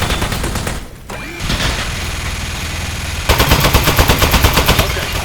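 Rapid gunfire from a gun in the video game Aperture Desk Job, loud and continuous, with dense bursts at first, a short gap, then a steady, even faster rattle of shots.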